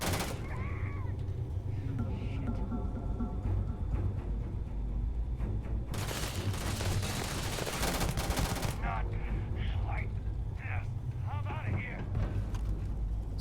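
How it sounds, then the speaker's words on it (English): Ballistic weapon fire in the Starfield video game, with bursts of rapid gunshots and a loud sustained volley in the middle, while a player talks over the action. "I'm using all of my ammo. Yeah, maybe it's because it's a ballistic weapon"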